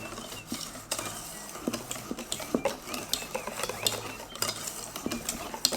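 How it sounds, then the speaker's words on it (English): A spoon stirs a chocolate mousse mixture in a bowl, making soft, quiet scraping and light clinks in an uneven rhythm. "I'm going to mix everything nicely together with the chocolate"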